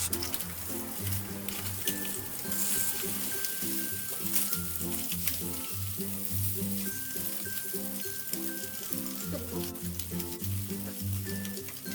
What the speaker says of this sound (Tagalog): ipiprito na natin ang ating spam